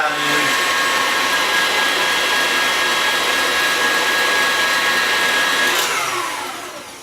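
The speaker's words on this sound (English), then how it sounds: "And you whisk it until it's sort of firm and" An electric whisk beats a cream-enriched Oreo cheesecake mixture, a steady loud whirring drone that runs continuously for several seconds before tapering off at the end.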